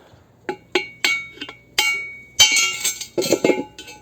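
Sharp metallic hammer strikes knock a wheel weight off a wheel rim at a scrapyard, about a dozen irregular blows, some single and some in quick bursts, close and loud with clinking resonance.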